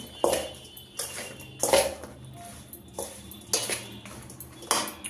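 A metal spoon clinks and scrapes rhythmically against a bowl while amla pickle spices, including nigella seeds and ajwain, are mixed, giving about five sharp clatters close up with quiet gaps between them.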